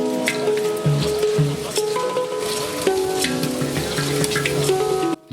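Percussionist's tuned notes ringing over the dripping of a nearby cave waterfall, clear pitched tones struck every second or so above a constant wet background of drips and splashing.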